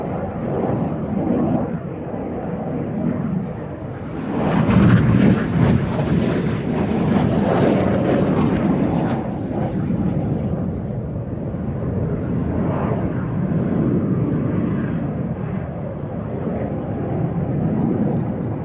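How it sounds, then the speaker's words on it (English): Red Arrows jets turn hard during a display at the Sywell air show, producing a broad, continuous engine roar that surges around five seconds and then stays loud and steady, with some wind buffeting on the microphone. "Each aircraft now turning hard as they complete the manoeuvre called Sywell."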